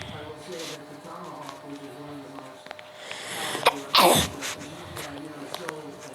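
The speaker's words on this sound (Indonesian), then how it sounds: "Suka bersin, coy." A cat gives one sharp, close sneeze, a sudden burst amid quieter shuffling and people chatting indoors.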